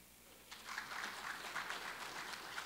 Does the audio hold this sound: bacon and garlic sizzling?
no